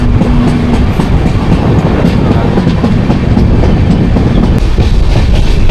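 Jamnagar–Tirunelveli Express rolling into Sangameshwar Road station, a loud, continuous rumble of rail cars with steady clickety-clack of wheels and a faint sustained hum, close by throughout.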